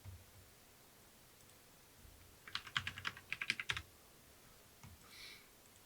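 A burst of typing on a computer keyboard, a quick run of close, crisp key clicks for about a second against quiet background hiss.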